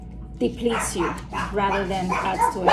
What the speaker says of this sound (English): I apologize for my barking dogs.